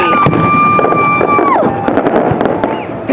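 Fireworks exploding outdoors, loud and close, with a whistling rocket that falls off before crackling bursts and pops, while people talk and shout nearby.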